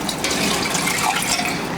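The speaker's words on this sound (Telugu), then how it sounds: "ఇంకొద్దిగా నీళ్ళు వేస్తున్నానండి" Water pours steadily into a pot of thin lentil stew (kandi kattu) being cooked, a loud continuous splashing stream with no talk over it.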